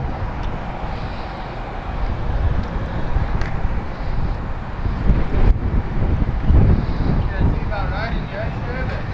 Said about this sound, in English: It got windy all of a sudden.